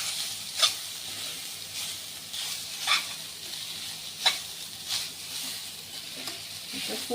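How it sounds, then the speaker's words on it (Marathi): Grated coconut sautéing in a pan for modak filling gives a soft, steady sizzle broken by a few spoon scrapes at regular intervals. "त्याच्यामध्ये खोबऱ्याचा पीस केलेला आहे तो थोडासा परतून घ्यायचा आहे"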